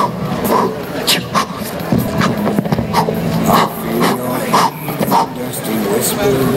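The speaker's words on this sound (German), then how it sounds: "du hast einen Hund" A dog at a street-musician festival in Lauf an der Pegnitz gives short yips, barks and whimpers in repeated bursts, close by and mixed in with voices.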